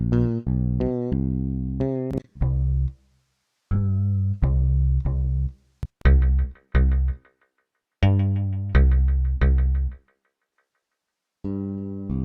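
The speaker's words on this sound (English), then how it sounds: "that is a weird ass sounding bass" A strange, gnarly bass plays short bursts of notes separated by silences, with a twangy, growling character, loud and up close.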